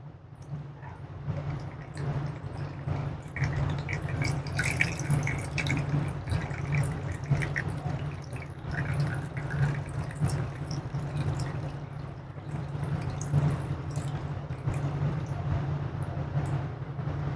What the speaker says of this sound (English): I'm collecting tap water here.